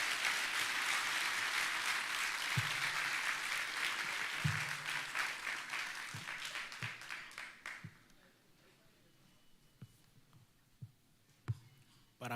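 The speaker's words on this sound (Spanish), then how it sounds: "quiero que le dé un fuerte aplauso nuevamente al Señor" A church congregation gives a strong round of applause during a sermon, sustained clapping that swells, then thins out to a few scattered claps and soft voices.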